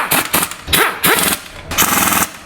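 A pneumatic impact wrench on a low setting fires in several short rattling bursts, driving bolts into an aluminum bracket during a CV axle job, loud and close with brief pauses between.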